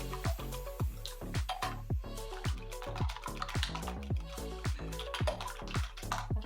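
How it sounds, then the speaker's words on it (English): Eggs are whisked in a bowl for a buttermilk rusk batter, giving quick, repeated clinking and splashing taps of the whisk against the bowl in an uneven rhythm, close and fairly quiet, over a soft background tone. "Let's mix the eggs thoroughly."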